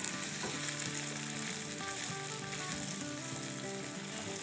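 Mixed vegetables get stirred into sizzling sambar masala in a pan: a constant bright frying hiss with scraping and clinking of the spoon throughout, close and fairly loud, with no voices.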